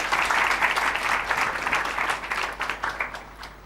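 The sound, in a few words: audience applause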